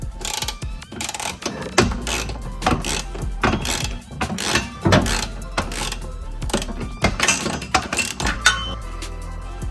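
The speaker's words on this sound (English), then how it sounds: "I'm gonna use my ratchet and give it a couple of turns" Ratchet wrench turning a bolt during a trailer hitch install on a Lexus RX350, with a run of loud, close, rapid clicking strokes and metallic clinks continuing throughout.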